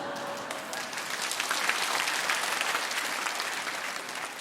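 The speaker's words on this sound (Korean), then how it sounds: "평소에 노래를 얼마나 못 불렀으면 박수가 나오겠습니까?" A church congregation applauding during a Sunday service: steady, dense clapping from a large crowd, sustained evenly throughout without pause.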